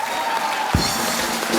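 Crowd clapping in the studio audience of The Kapil Sharma Show, a Hindi TV comedy show, a broad continuous wash of applause with a brief low thump partway through.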